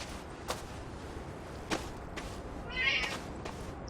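A cat meows at a door in the space game Astroneer, one short mid-pitched meow near the end amid a few scattered thumps and soft ambient noise.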